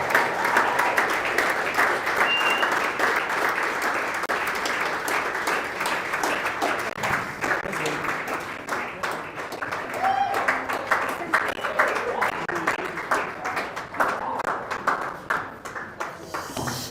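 Sustained audience applause fills a launching event for an AI and robotics research and training center at a college, dense steady clapping throughout with scattered voices mixed in.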